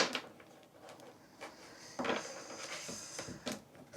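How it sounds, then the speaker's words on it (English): Quick, crisp riffling and flapping of playing cards being shuffled up close, in several short bursts with brief pauses between. "Let me shuffle on camera."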